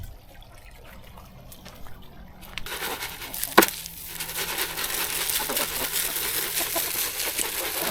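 Water overflowing from a galvanized steel fish tank in an outdoor fish-breeding setup, a steady close trickle and splash that swells louder partway through and continues without talking.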